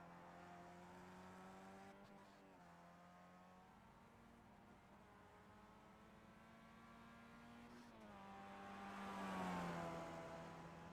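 Simulated race car engines in the iRacing game whine in a steady high drone, pitch sliding down at gear shifts before a second car swells louder and sweeps past near the end; faint and without talk.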